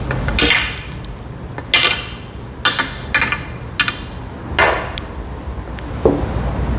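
Billiard balls in a four-ball two-cushion practice shot, a series of sharp clacks as the balls strike each other and the cushions, spaced irregularly, clear and close with no talk.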